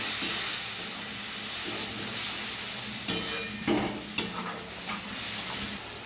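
Spice paste for egg curry sautéed in a pan, giving a steady close sizzle under repeated stirring, with a few sharper scrapes of the spoon against the pan near the middle.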